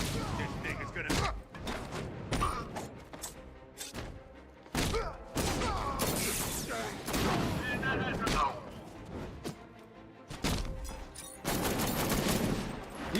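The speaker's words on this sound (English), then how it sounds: "We shooting first and asking questions later" Heavy video game gunfire rattles in dense bursts and sharp broadband blasts, with thumps and brief gaps, loud and continuous over the full stretch.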